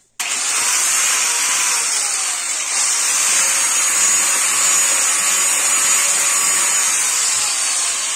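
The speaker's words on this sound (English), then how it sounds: "An angle grinder. Okay. Let's plug this thing in." An angle grinder runs at full speed, a loud, even high-pitched whine with an airy rush that holds steady from start to finish over about eight seconds, with no voices.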